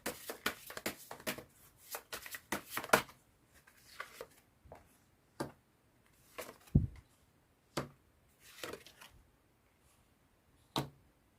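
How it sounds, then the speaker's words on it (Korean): Tarot-style advice cards are shuffled and drawn, with a quick burst of riffling card flicks followed by scattered single soft slaps and taps as cards are laid down, close and quiet, with no talking. "조언정 카드 뽑아보도록 할게요."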